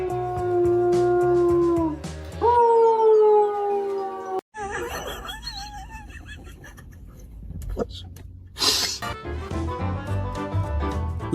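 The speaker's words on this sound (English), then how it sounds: "Only a husky can turn tea time into a full conversation." A husky howls loudly in long, wavering, drawn-out tones, then breaks into varied yips, whines and chattering vocal sounds, close up amid indoor noise.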